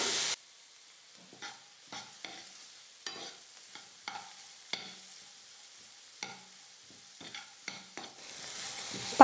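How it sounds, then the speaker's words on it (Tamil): Onions sautéing in a pan for upma, with a soft background sizzle broken by about a dozen sharp spatula scrapes and clatters at an uneven stirring rhythm, close and fairly quiet. "பாருங்கள் ஃப்ரெண்ட்ஸ் வெங்காயமும் நல்லா வதங்கிடுச்சு"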